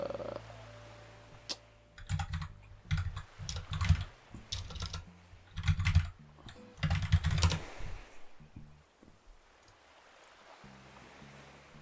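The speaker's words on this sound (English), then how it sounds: "Excuse my mechanical keyboard" Mechanical keyboard keys clatter in quick bursts of clicky typing at a computer, close and fairly loud, alone with pauses between flurries.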